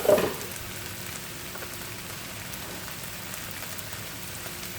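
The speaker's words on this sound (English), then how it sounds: "next I'm going to go ahead and add in my rice" Rice hits a hot pan with a brief loud crackle, then settles into a steady, close hiss of sizzling and popping.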